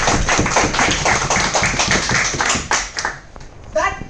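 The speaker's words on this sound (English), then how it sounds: "Huge round of applause for Toastmaster Anushka." Applause at a Toastmasters club meeting: dense, steady hand clapping from a small room audience fills the stretch, then thins out and fades near the end.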